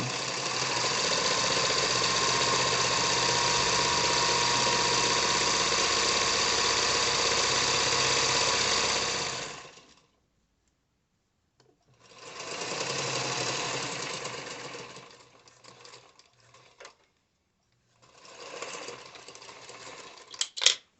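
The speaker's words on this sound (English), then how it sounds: "I will sew again from the same direction from the top to the bottom so that I have a nice smooth strap" A sewing machine stitches a purse strap from top to bottom in a steady, loud mechanical whir that runs for about ten seconds, stops, then resumes in two shorter bursts separated by pauses.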